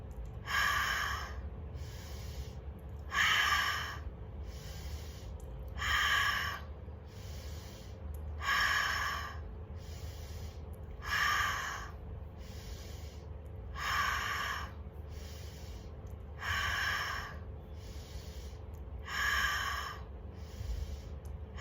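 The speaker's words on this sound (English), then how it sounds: "Breath of fire." Breath of fire, a rapid yogic breathing practice: strong, regular bursts of forceful breath repeating about every two and a half seconds, close and prominent over a faint low hum, with no talking.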